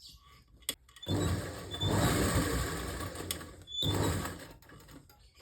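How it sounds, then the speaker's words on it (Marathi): A sewing machine runs a short seam on palazzo pants, with two bursts of steady whirring stitching separated by a brief pause, close and clear with no talk. "इथे मी फक्त अर्धा इंच एवढ्याच अंतरावरती एवढ्याच भागात शिलाई मारून घेणार आहे"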